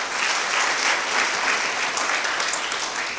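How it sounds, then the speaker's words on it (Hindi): A church congregation claps together in thanks to the Lord, a dense, even wash of many hands applauding steadily for a few seconds. "आप तालियां बजा के प्रभु का धन्यवाद कीजिए"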